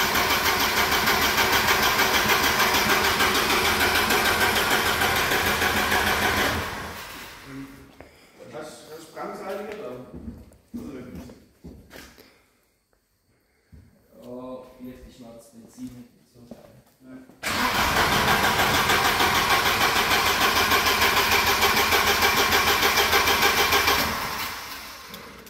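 Engine of a 1987 Volvo 740 GL with fuel injection, cold-started after sitting for years: loud, steady running at first, then a lull with talk and sputtering attempts before it catches again and runs strongly, with voices in between.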